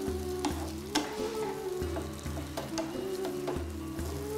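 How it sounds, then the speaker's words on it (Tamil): Potatoes and mushrooms sizzle in oil in a pan while being roasted for mushroom shagoti, a steady close frying hiss broken by regular scraping stirs about every half second, with no talking. "இதையும் நம்ம இந்த ஆயிலே கொஞ்சம் ஆஃப் டென்னாக இருக்கிறது வெல் டென்னாக ரோஸ்ட் பண்ணுவோம்"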